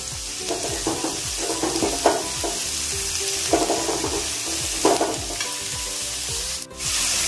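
Onions frying in a pan, a steady close sizzle broken by bursts of stirring and scraping every second or so, loud and continuous with no voices.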